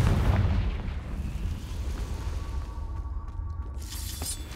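A Confringo fire spell bursts in Hogwarts Legacy, a loud booming blast up front that settles into a rumbling, crackling tail with distant debris and faint chimes, no voices over it.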